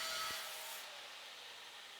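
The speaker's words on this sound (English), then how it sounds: "So I shave a little off. You can do it by hand or just slap it in a drill like this to keep everything nice and even." A wooden kukri knife handle spins in a drill while being shaved down, giving a steady, close, loud rasping scrape. A broad hiss drops off partway through and then carries on as an even, quieter rub.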